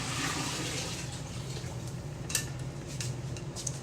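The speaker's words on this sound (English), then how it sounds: "And I'm gonna dump this water before it turns into a solid." Water being dumped out of a container, a loose splashing and pouring wash with a few sharper clinks and splats toward the end, fairly faint and continuous.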